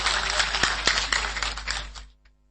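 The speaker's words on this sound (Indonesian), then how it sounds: "Tepuk tangan buat semuanya." Audience at a religious sermon gathering in Aceh applauding, a short, fairly loud burst of scattered clapping that fades out after about two seconds.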